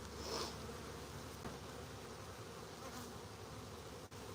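Close, steady buzzing of mason bees, a continuous insect drone with no talking.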